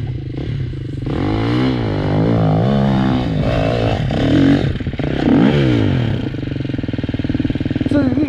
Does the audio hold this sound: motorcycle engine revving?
yes